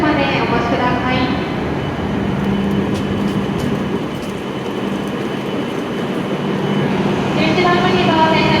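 An E7 series Hokuriku Shinkansen train pulls into Kanazawa station at platform 11, giving a steady rumbling rolling roar close by throughout, with a voice speaking over it.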